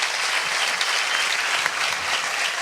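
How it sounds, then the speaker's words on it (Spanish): Steady, dense applause from a lecture audience honoring the speaker, continuous and fairly loud throughout with no voices over it. "Una vez más el aplauso para nuestro disertante."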